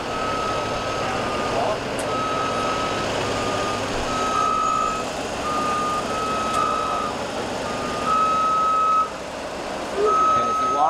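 A JLG scissor lift lowering its platform, a steady high electronic beep repeating at regular intervals over a low motor hum and background rumble, fairly close and moderately loud.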